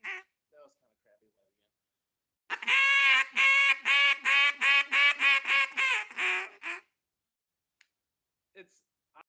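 Hand-blown duck call imitating a run of quacks, about a dozen loud, nasal, evenly spaced notes in a fast rhythmic sequence, close up, between quiet stretches.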